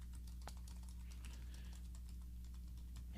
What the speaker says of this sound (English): I'm going to go ahead and type a question in here